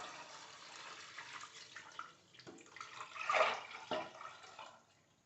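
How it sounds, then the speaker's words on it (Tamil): Measured water is poured from a vessel into a cooking pot, making a soft splashing stream that swells in the middle and fades at the end, at close range with no talk. "நம்ம அளந்து வச்சுருக்க தண்ணியை எடுத்து இதில் சேர்த்துடலாம்."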